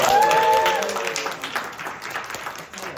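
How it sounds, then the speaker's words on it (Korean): Audience applause on a Korean variety show, a moderately loud burst of clapping that slowly thins out, with a brief sung or whistled tone at the start. "박수 한번 주시죠."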